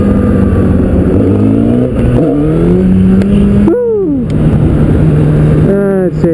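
A motorcycle engine revs and climbs in pitch through first gear for a wheelie attempt, loud and close, with rising and falling rev sweeps as someone talks over it.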